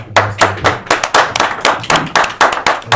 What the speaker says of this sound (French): je leur demande de les applaudir pour moi